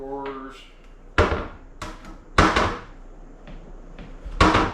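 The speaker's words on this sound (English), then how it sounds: "Plenty of room to open cabinet doors." Cabinet doors in a small DIY tiny-house cabin kitchen open and shut. Three or four sharp wooden knocks and clunks land close by, with quiet moments between them.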